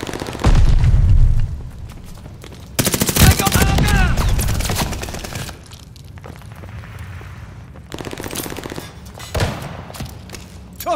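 Gunfire and a grenade blast in a Call of Duty: Vanguard firefight: a sharp burst around the three-second mark followed by scattered shots and thumps, loud and close, with a voice speaking briefly.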